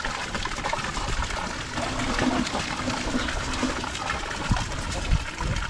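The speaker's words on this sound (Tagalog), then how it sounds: "So dito naman kami magbawas ng tubig mga kaprobinsya." Water gushes and splashes steadily as it drains from a tarpaulin pond stocked with tilapia, a continuous broadband rush with a few louder thumps near the end.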